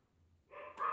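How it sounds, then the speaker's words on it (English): A dog, a female, gives one or two short barks indoors in the last half second, after a near-silent start, loud and close. "I am sorry about the barking dog."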